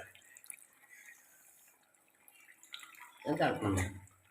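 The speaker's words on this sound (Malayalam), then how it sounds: "അപ്പൊ അതിന് പുളിവെള്ളം ഒഴിച്ച് കൊടുക്കണ്ട" After a near-silent stretch with faint voices, tamarind water is poured into a red fish and raw plantain curry, making a short burst of splashing and gurgling liquid near the end.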